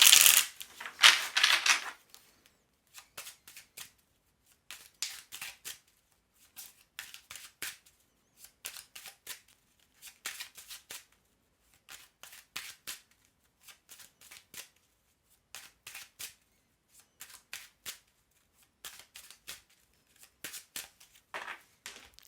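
Oracle cards are shuffled in a loud riffling burst, then cut and handled in a long run of soft, crisp card slaps and flicks, spaced irregularly and close by.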